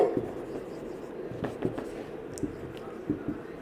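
Marker or chalk writing on a board during a physics lesson on optical density, a soft scratchy scraping with intermittent taps, close and moderately faint, with no speech during the strokes.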